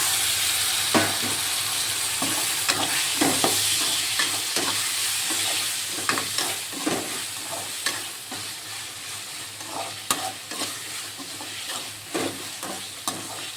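Tomatoes and curry leaves being sautéed in a pan give a continuous hissing sizzle, with repeated scraping stirs and clicks of a spoon throughout, close and steady, no one speaking.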